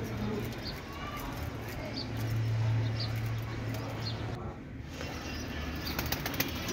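Rooftop pigeons kept by a fancier, with soft flutters of flapping wings and low cooing amid faint outdoor ambience, under a voice talking through the scene.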